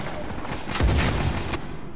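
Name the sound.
rapid sniper rifle fire in the video game Uncharted 4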